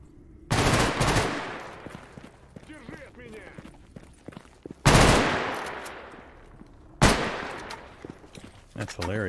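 Gunfire in STALKER GAMMA: three loud, sharp shots or short bursts spaced a few seconds apart, each ringing out and fading, with scattered lighter game sounds between them.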